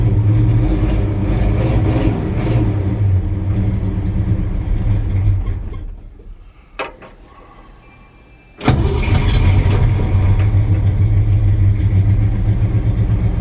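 A V8 car engine idling rough and not firing on all eight cylinders, loud and close, with an uneven lumpy beat; it cuts out briefly, then catches and settles back to a steady idle.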